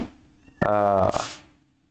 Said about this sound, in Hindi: ये देखो बिल्ली आ गई बगल में